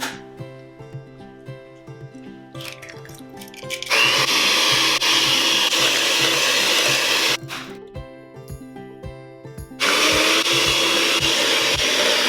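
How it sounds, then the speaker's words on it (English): Hand-held electric beaters whip eggs into a sourdough chocolate cake batter, producing two loud, steady whirring bursts of about three seconds each, separated by a quieter stretch of soft background music. "Then I'm going to take some electric beaters and beat 2 eggs into the batter."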